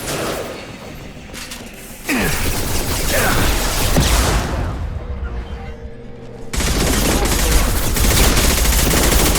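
Shotgun blasts and gunfire in the video game Mass Effect Legendary Edition, loud combat sounds with repeated shots and booms, continuous and dense over roughly nine seconds, with voices calling out over the action.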